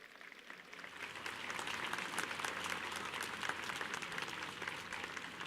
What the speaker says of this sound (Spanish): Fuerte aplauso a nuestra Madre.